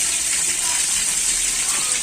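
Water from a large container is poured out through a strainer while sorting giant multicolor betta fish from a canvas pond: a steady, close rushing gush with a bright hiss, unbroken for about two seconds.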